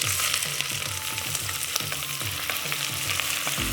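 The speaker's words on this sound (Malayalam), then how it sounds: "ഇനി എടുത്തു വെച്ചിരിക്കുന്ന സവാള ഇട്ട് കൊടുക്കാം" Sliced onions crackle and sizzle loudly in hot oil in a pan with curry leaves and fenugreek, with rhythmic stirring scrapes cutting through the constant close frying noise.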